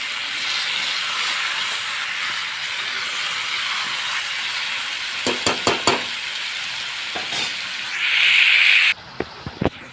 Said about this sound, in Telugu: పూర్తిగా కలిపేసుకోవాలి ఆయిల్ అంతా ఈ పీసెస్కి పట్టే విధంగా